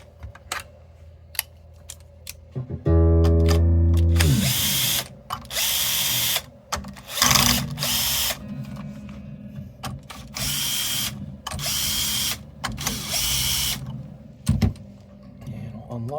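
A Bosch power drill working on the hardware of a 2016 Gibson Les Paul Standard guitar, a low revving start followed by repeated short, loud whirring bursts amid clicks and handling noise.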